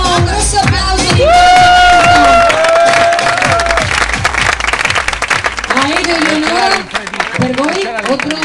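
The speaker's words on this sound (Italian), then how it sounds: "Facciamo un grosso applauso di" Applause from a crowd at a couple-dance event, loud and dense clapping with cheering over music that carries through, a sustained tone running under the first few seconds.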